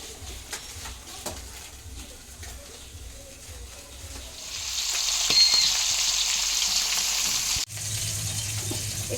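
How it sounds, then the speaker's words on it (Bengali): Three fish heads frying in oil in a pan, a steady close sizzle that swells louder midway, with light clinks of a utensil. "3টে মাথা আমি ভাজা করে নিচ্ছি ভালো করে"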